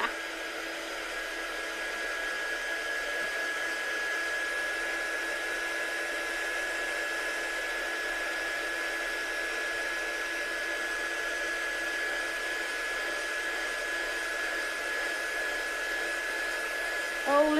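Hair dryer blowing hard and steady over a watercolour stencil layer of fast-drying ink, a constant near roar with a high whine running through it and no talk over it.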